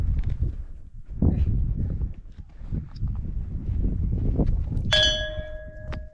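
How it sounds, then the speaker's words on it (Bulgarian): Two bells on a mountain saddle at 2,607 metres near Malyovitsa in the Rila range are struck together late in the clip, giving a sharp clang with a ringing tail. Shuffling steps and wind come before it, and a second quick tap follows. "И двете камбани едновременно."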